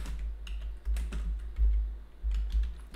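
Fingers typing on a computer keyboard, a quick uneven run of light key clicks in short bursts with brief pauses, close and fairly quiet over a low background hum.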